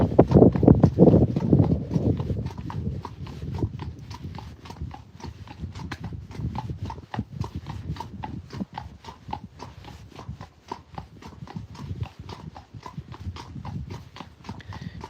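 Horse hooves clip-clop steadily in an even walking rhythm while the animal is ridden, close and clear throughout, louder and denser at the start, with a faint low rumble beneath and no talking.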